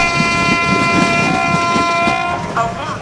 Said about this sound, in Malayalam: തിരക്കേറിയ സബർബൻ റെയിൽവേയിൽ യാത്ര അതിസാഹസികമാണ് പലപ്പോഴും